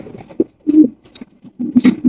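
Fancy beauty pigeons offered for sale coo in short, soft, low throaty bursts with small gaps between them, heard close and alone.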